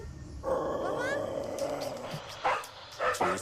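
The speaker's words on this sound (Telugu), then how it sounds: "చూస్తుంటే ఈ కుక్కలు పిచ్చి పట్టిన కుక్కల్లో ఉన్నాయి." Several dogs barking, yipping and whimpering in an outdoor village setting, excited and agitated, a steady mix of calls with sharper bursts near the end, moderately close.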